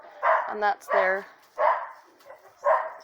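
Several dogs bark near a winter chicken coop, four loud bursts of barking with gaps between them, and a person speaks briefly among the barks.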